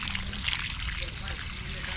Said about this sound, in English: So I'm going to continue through and just water in the rest of the row.